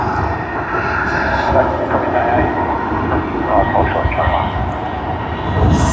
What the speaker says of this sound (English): let's capture the departure roll